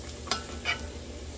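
A freshly flipped double-stuffed empanada fries quietly in a pan, a soft steady sizzle with a couple of brief utensil scrapes.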